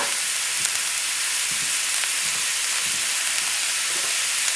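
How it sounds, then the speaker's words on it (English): Diced vegetables sautéing in a pan over a raised flame for a Creole sauce, giving a loud, continuous close-up sizzle with soft stirring thumps underneath and no voices. "And we're going to saute this."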